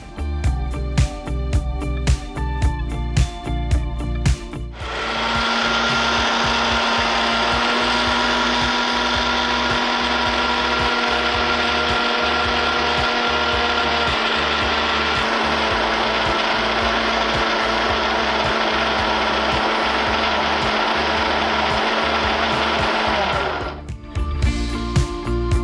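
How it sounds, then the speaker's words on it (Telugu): A mixer grinder grinds soaked brown rice with urad dal, salt and water in a kitchen. Its loud, even motor whine runs for about twenty seconds after some clattering, then stops abruptly, with no talk. "ఇప్పుడు దీన్ని మనం మిక్సీ పట్టి"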